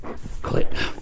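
A dog whines for attention in a brief, close burst of breathy whimpering that blends into the sounds of several other dogs in the room.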